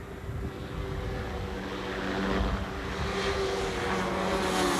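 Suzuki GSX-R 750 and 1100 racing motorcycles from 1986 roar along a straightaway in a national cup race, a steady, rising engine drone with sustained whining tones, bikes close together in the draft, no talk.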